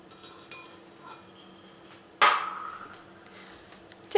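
Ginger cookie dough with molasses is stirred in a bowl. Soft, quiet scraping leads into one sharp spoon-on-bowl clink midway, followed by more light clatter.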